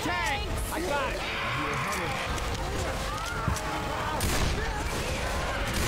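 Gunfire in the Left 4 Dead 2 video game, rapid shots blending into a busy, loud game mix with running, shouting and frantic action throughout, while players talk over it.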